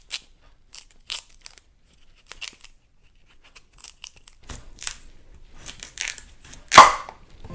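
Skin being peeled off a yuca root with a knife, giving sparse crisp scrapes and crunchy tearing strokes, close and alone, quiet at first and growing denser and louder toward a sharp final rip.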